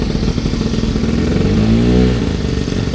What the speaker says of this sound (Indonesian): kita nyobain motor matic pertama di Indonesia.